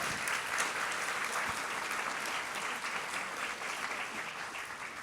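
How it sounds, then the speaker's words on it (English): Sustained audience applause from a seated crowd at a live talk event, steady dense clapping that holds at an even level throughout with no voices above it. "So please give them a round of applause as well."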